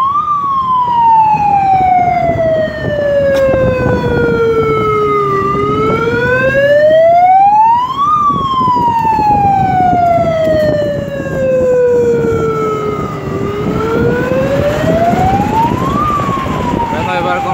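A siren blared through a megaphone carried on a bicycle in the streets of San Salvador, rising and falling in long sweeping wails, loud and close, over steady traffic noise.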